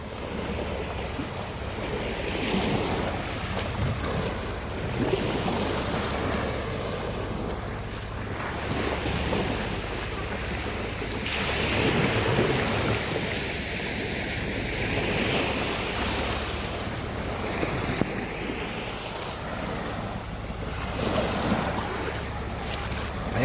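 Sea waves at Anawangin Cove in Zambales, heard as a steady wash of surf mixed with strong wind buffeting the microphone, loud and continuous, with boat-like rumble underneath and no clear talk.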